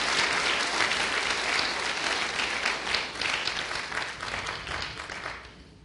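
Congregation in a church breaking into loud sustained applause, a dense wash of many hands clapping that gradually tapers off toward the end.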